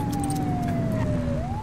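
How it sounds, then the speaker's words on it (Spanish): A police car siren wails loud and close in the police game The Precinct, one steady tone sweeping down and then up over a constant engine rumble, with no talking. "¿No escucháis las sirenas o qué?"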